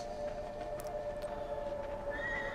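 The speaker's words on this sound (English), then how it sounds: "There's a horse over there" A video game horse whinnies faintly over a sustained tonal drone, with a few soft clip-clop sounds in the background.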